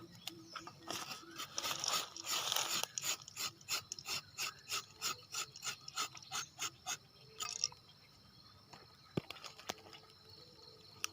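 A tapping knife scrapes across rubber tree bark in a quiet plantation, giving a close, rhythmic run of about fifteen short rasping strokes at an even pace, followed by a few faint scattered clicks.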